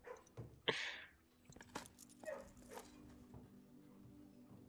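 Dogs in a kennel in the video game Blue Prince, with faint yips and whimpers and one sharper bark-like burst early on, then softer scattered sounds over a low steady hum.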